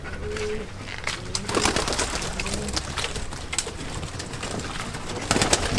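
Pigeons coo softly and repeatedly against a busy, rustling background, with occasional flutters and faint voices nearby.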